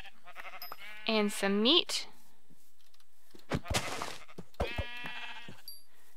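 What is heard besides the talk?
sheep bleating in the video game Minecraft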